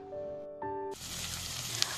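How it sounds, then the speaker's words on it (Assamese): Ginger, garlic and onion paste sizzles loudly in a hot pan, a steady broadband frying hiss that bursts in after a few seconds of faint tonal hum and continues without talk. "এয়া দিছোঁ আদা নহৰু পিঁয়াজৰ পেষ্টখিনি অলপ ভাজি লৈছোঁ"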